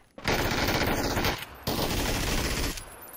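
Two long, loud bursts of rapid automatic gunfire from a weapon in a shooting video game, separated by a brief pause, with no talking over them.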